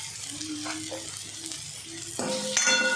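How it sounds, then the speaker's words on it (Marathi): Onion sautéing in a pan while preparing chana masala, a steady close sizzle with stirring scrapes, growing louder toward the end. "कांदा चांगला परतून घ्यायचा"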